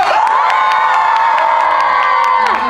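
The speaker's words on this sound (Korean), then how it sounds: "큰 박수와 함성 부탁드리겠습니다" A cinema crowd at a stage greeting erupts in loud cheering and high-pitched shrieks with some applause, a continuous close roar that tapers off at the end.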